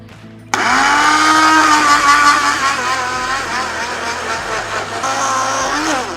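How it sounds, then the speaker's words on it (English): A blender starts abruptly and whirs loudly and steadily, its motor pitch wavering slightly as it chops through fresh mint for a mint sauce. "So let's start blending."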